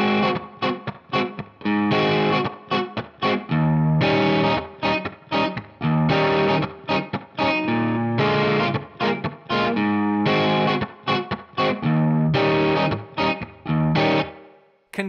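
Electric guitar playing a blues riff, with choppy rhythmic chords and single-note licks through overdriven, effected tone, punchy and loud alone for fifteen seconds.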